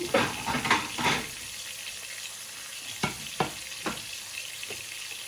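Oxtails searing in a Dutch pan, a steady sizzle with a few louder crackles and spatters near the start, then scattered pops as the meat fries, close and fairly quiet.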